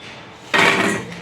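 A short burst of dry, rustling clatter as crisp fried mini wheat-flour kachoris tumble into a vessel, close and fairly loud, with no talking.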